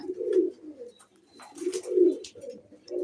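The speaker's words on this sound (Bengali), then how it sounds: "দেখেছেন এগুলো আমাদের শখের কবুতর মাসাল্লাহ" Pet pigeons kept as a hobby coo softly nearby, low throaty rolling calls repeating in a few phrases with short pauses and faint background rustles.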